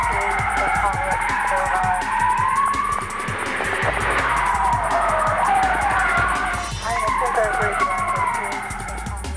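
Tires skid and engines roar as a car swerves out of control during a police chase, nearly hitting a patrol car, with sustained screeching over loud engine noise and a siren-like wail.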